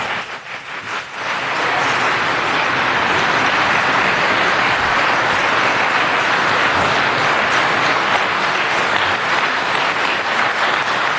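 A crowd at a city council meeting bursts into loud, sustained applause and cheering that swells after a brief quieter start and fills the room without letup.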